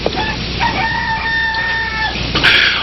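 A chicken calls loudly and close by, one long drawn-out cry lasting over a second, followed by a short squawk near the end.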